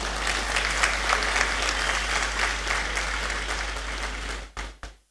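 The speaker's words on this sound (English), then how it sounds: "I'll wait for the applause, that's fine." Audience in a great hall applauding at a university congregation ceremony, a steady, even wash of many hands clapping that holds for several seconds, then breaks off abruptly with a couple of final bursts before cutting out.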